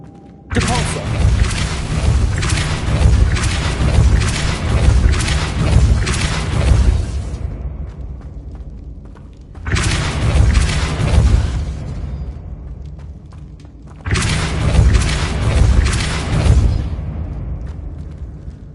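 Force spell blasts from Depulso cast in the video game Hogwarts Legacy: three loud, heavy booming bursts, each a few seconds long, separated by brief quieter gaps.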